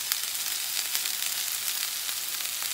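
Chicken fajita filling with ground paprika and cajun seasoning sizzles loudly and steadily in a hot pan, a dense continuous frying hiss with faint stirring scrapes and no talk.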